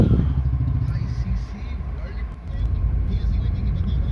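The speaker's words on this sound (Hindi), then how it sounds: "और फिर उस ट्रैफिक में हमें फिर आधे घंटे उस ट्रैफिक से निकलने में लग गए" Heavy road traffic crawls through Saket in Delhi, a dense, steady rumble of car and motorbike engines close by, with voices talking over it.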